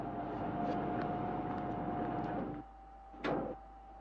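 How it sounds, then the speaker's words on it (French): From inside a submarine, a steady low droning hum with a thin whine carries a distant ship's propeller noise, then drops quieter before a brief whooshing burst near the end. "Bruit d'hélice, à 1200 mètres"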